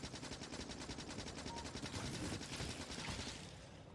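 Rapid automatic turret gunfire in the modded video game Factorio, a fast rattling burst of shots that stays loud for a few seconds before easing off, with no speech.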